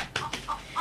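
A neighbour's chickens cluck nearby in a few short, quick calls spaced about every third of a second, moderately loud against a quiet background.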